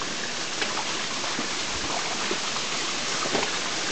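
A waterfall on a small river gives a steady, dense rushing roar that fills the whole clip without a break.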